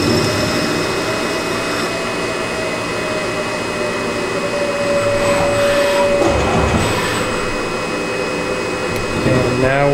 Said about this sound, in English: And then we quickly chamfer the front side.